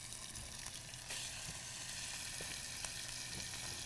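Stew ingredients hit a hot pan and sizzle loudly and steadily, a faint hiss swelling slightly after the first second and holding even, with scattered light clicks.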